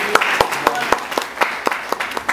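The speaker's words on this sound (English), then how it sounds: "Let's give Jesus a clap of praise." A church congregation clapping in praise during a sermon, giving a series of sharp, fairly regular claps at about four per second, crisp and close, over a faint background hum.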